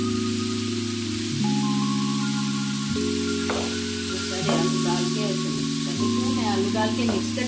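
Potatoes fry and are mixed into spices in a pan, a steady sizzle with stirring scrapes beneath loud sustained background music.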